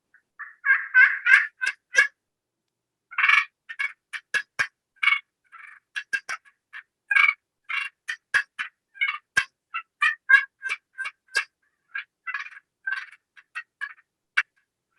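A slate friction call imitates a wild turkey, giving clear, close runs of sharp yelps and clucks in irregular bursts with short pauses between them, alone and with no talk.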